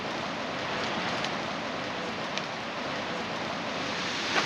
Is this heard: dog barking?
no